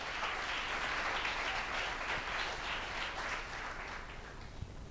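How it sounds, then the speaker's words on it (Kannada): A church congregation at an evangelistic meeting claps its hands together in a long, even patter, heard at a distance and fairly soft, with no voices clear above it. "Come on, clap your hands and say praise to Jesus."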